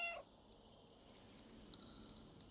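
A cat in the video game Stray gives one brief, quiet meow at the very start, followed by a faint, steady ambient hum. No talking.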